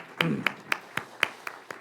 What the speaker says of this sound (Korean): 두 분께 축하의 마음으로 아름다운 꽃다발을 우리 크게 박수하겠습니다